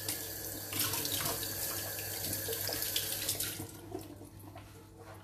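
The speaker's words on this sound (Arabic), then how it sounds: "نبلوها فيسا فيسا بالماء" Tap water runs steadily into a sink to wet spring roll wrappers during kitchen prep, a continuous close splashing hiss that thins out toward the end.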